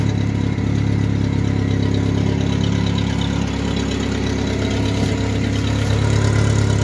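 A 2.3 Ford Ranger engine idles steadily after a cold start, a close, even low rumble with a constant rhythmic pulse and no talking.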